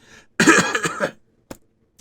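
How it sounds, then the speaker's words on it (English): A burst of throaty coughing and throat clearing, close up, followed by a short sharp cough and a faint click. "Clear my throat."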